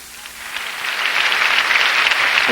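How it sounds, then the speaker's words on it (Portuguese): A congregation at an evangelistic worship service in Portland claps together, the dense applause rising from moderate to loud over a couple of seconds and holding as a bright, continuous roar. "Uma salva de palmas ao Senhor."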